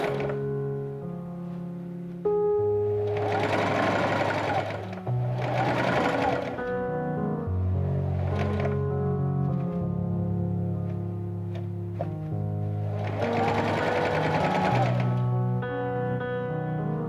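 A sewing machine stitches a ruffle onto the outer layer of a 1903 trumpet skirt, running loud and close in several bursts with short pauses between, while music plays steadily underneath.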